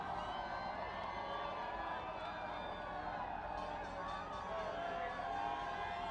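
Crowd noise at Michigan's national championship parade, a continuous, distant bed of cheering and chatter from fans lining the route, with voices talking over it throughout.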